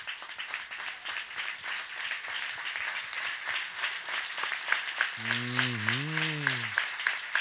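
A church congregation claps together at a Sunday service, a dense, fairly distant patter of many hands that keeps up throughout, with a short sustained tone rising briefly near the end.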